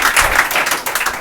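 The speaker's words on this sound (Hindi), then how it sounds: "तो इसका ताली बजाइए, ताली" An audience claps together at a coaching-class interview session, a dense, loud burst of many hands that carries steadily through the short moment with no voices over it.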